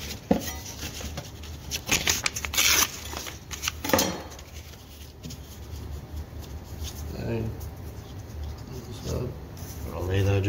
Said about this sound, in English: the tape's going to be cut right about there.